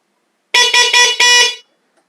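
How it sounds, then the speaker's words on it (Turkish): A newly installed 110 dB aftermarket horn on an Onvo RX7 car honks loudly in four quick, closely spaced blasts lasting about a second in total, close to the listener. "Evet kornamız çok güzel çalışıyor."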